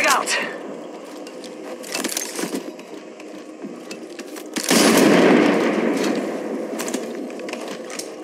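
Automatic gunfire erupts in the Apex Legends battle royale game, rapid clattering bursts layered with game effects and voice lines, loudest in a dense volley toward the end.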